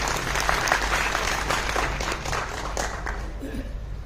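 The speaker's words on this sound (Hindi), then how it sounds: "एक बार तालियां प्लीज।" Audience at a lecture event in Indore clapping in welcome, steady close-up applause with a murmur of voices mixed in, easing slightly toward the end.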